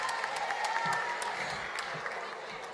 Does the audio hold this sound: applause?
yes